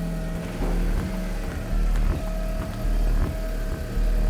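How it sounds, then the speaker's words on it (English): BMW car engine running steadily after a repaired brake system, a low continuous rumble with a few rev swells, close and loud, no talking. "let's try to start a car and I really hope everything works now"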